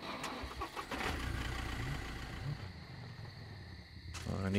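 A vehicle engine in the survival video game SCUM cranks and catches, then runs in a rough, smoky-sounding mid-pitched drone, with a brief surge near the end.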